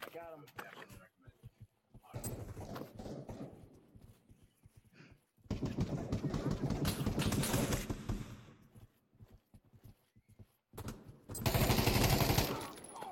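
Automatic gunfire after switching fire mode in the VR shooter Pavlov VR, in several long bursts separated by quiet gaps and short single shots, with a voice talking between them.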